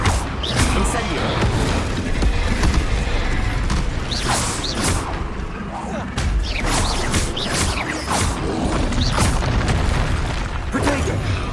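Spell-casting combat in Hogwarts Legacy, including the Incendio fire spell, fills the clip with dense booms, crackling bursts and impacts over a constant rumbling game soundscape.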